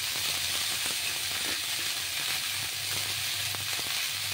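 Shukto vegetables, including drumsticks (sajne danta), lightly frying in a pan, giving a steady close sizzle and hiss with a few soft stirring clatters throughout.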